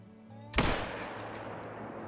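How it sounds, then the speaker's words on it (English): A single rifle shot is fired during a moose hunt in the Yukon bush: one loud, sharp crack with a long rolling echo fading away outdoors. "I just shot randomly into the bush."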